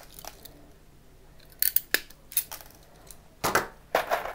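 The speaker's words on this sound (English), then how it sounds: "you cut the ends so they are the same length" Snipping the wire ends of a flattened Cat 5 cable with a crimp tool or cutters before termination, heard as a handful of sharp close clicks and snips in short bursts against a quiet room.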